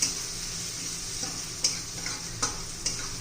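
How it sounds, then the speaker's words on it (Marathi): Green chillies sauté in oil in a pan, a steady sizzle punctuated by four or five sharp spatula scrapes at irregular intervals, close and fairly clear with no talking. "मिरची जरा कच्ची असते ना त्यामुळे तेलात चांगली परतून घ्यायची आहे"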